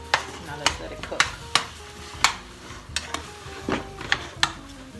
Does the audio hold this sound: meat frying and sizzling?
yes